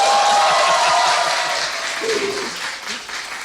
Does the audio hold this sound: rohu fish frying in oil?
no